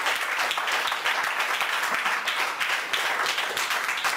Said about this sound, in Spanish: Aplaude las cosas de Dios.